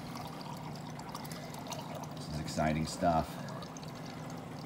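Water poured from a container into a coffee mug, a short gurgling fill that swells briefly near the end, heard under a man's speech and background room noise.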